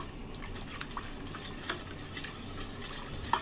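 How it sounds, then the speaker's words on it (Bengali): A spoon stirs custard powder into lightly warmed milk, a soft, steady swishing with faint scrapes and clinks against the pot, quiet and close. "তো হালকা দুধে গুলিয়ে নিব।"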